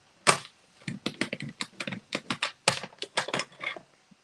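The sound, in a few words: scoring cardstock between marked points for handmade card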